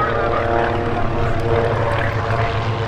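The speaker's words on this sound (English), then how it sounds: "Rolling now, the Recce formation getting airborne, the Lockheed 12A and the Super Green Spitfire" Propeller aircraft, a Lockheed 12A and a Spitfire PR11, take off together at the Duxford summer airshow, a steady loud droning engine roar with deep harmonic hum throughout.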